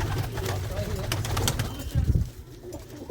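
Pigeons coo in low, throaty bursts inside a loft, close and layered, while someone talks intermittently over them.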